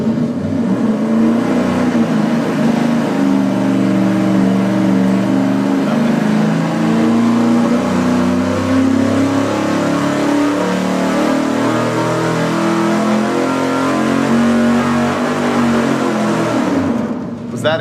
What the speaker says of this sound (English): maybe that's why it was warbling instead of revving up cleanly